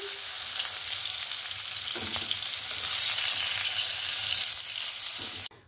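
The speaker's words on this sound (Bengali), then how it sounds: "আলু আর পটলটাকে দেখুন একদম সুন্দর লাল লাল করে ভেজে নিয়েছি।" Potato and pointed gourd fry in oil until reddish, giving a continuous close, bright sizzle that holds steady before stopping abruptly at the end, with no one speaking.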